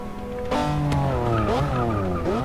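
A McLaren F1 GT race car in Forza Motorsport 6 howls past at high revs, its engine note sweeping and shifting as it brakes and accelerates, with tire squeal mixed in, loud and close with no talking.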